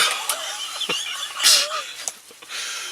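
Wild turkeys call from a distance during a spring turkey hunt in Pike County, a few faint gobbles and yelps over quiet woods, with soft human sounds nearby.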